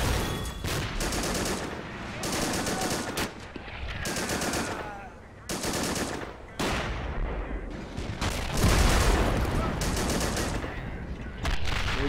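Heavy gunfire in the World War II strategy game Men of War Assault Squad 2, dense bursts of machine-gun and rifle shots in loud overlapping volleys with brief lulls, continuing for several seconds.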